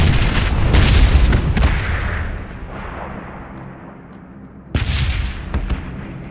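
Grenade explosion in the PUBG Battlegrounds video game: a loud booming blast that rumbles and slowly decays, then a second sharp, heavy blast near the end, close and without talk.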